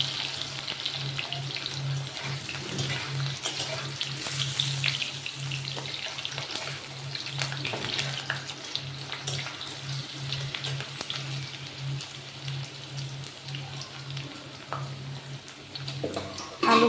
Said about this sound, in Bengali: আলুগুলো প্রথমে ভেজে তুলে নেব।